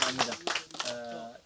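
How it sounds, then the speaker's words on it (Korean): An audience at an apple-farming lecture claps in a quick, bright patter that blends with a voice talking over it. "다시 한번 박수를."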